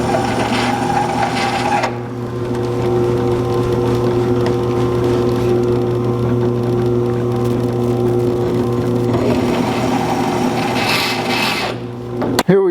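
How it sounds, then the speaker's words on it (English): A power grinder bevels the holes in a steel bracket for a 1949 Chevrolet gasser, droning steadily with a loud motor hum and bursts of harsh metal grinding at the start and near the end. "now some grinding to make it look pretty. We'll put a nice little bevel on our holes"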